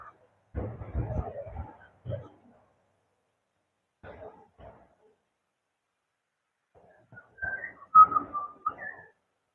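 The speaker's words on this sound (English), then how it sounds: "Then that's a butcher bird in the background." A butcher bird calls in the background along a park bikeway path, its clear whistled notes coming late and fairly faint after scattered rustling and handling noise.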